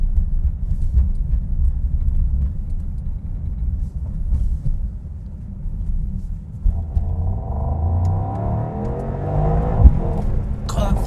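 A 2024 Mercedes-AMG GT Coupe in its sportiest mode with loud exhaust rounds a corner and accelerates hard, a steady low rumble rising into a climbing engine roar over the final few seconds.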